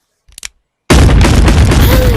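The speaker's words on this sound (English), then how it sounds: "But the explosion is so big." A big explosion in the VR game Animal Company starts with a few faint clicks, then erupts into a sudden, loud, roaring blast that keeps rumbling to the end.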